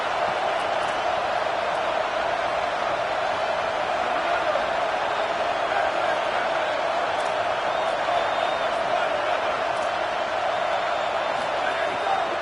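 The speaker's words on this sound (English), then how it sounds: "Here comes this home crowd as the defense tries to get off the field on third down." Home crowd in an American football video game roars steadily through a third-down defensive stand, a dense, continuous wash of cheering that stays loud and even from start to finish.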